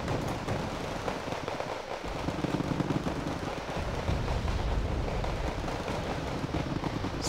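Bombs exploding during Wargame: Red Dragon gameplay on a jungle map, a continuous dense barrage of loud booms and crackling blasts rolling on without a break for several seconds.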